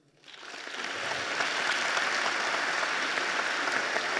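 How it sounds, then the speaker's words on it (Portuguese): An audience at a mining innovation summit panel breaks into applause that swells quickly from silence to a full, steady roar of many hands clapping and holds there to the end. "uma salva de palmas para todos"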